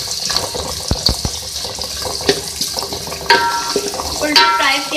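Onions frying in oil for a shadi-style aloo gosht, with a sizzling hiss under clinking and scraping stirs, a couple of sharp knocks, and brief watery running sounds near the end.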